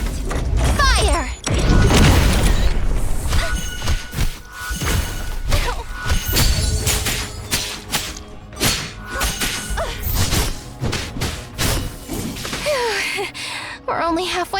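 A rocket fires and explodes in the video game Black Beacon, a loud burst of smashing, booming impacts with whooshes amid busy game effects and music, and a voice talks over parts of it.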